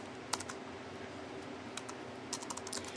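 Computer keyboard typing, a few scattered key clicks then short quick bursts of keystrokes, close and fairly quiet against a faint background hum.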